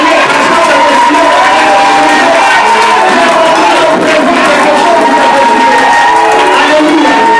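A church congregation cheers and acclaims loudly and without pause, a dense wash of shouting, whooping voices and scattered clapping filling the hall throughout.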